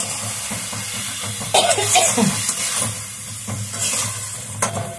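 Spices sizzling and being stirred in a frying pan while fish curry is cooked, a steady soft frying hiss with scraping stir strokes and a cough partway through.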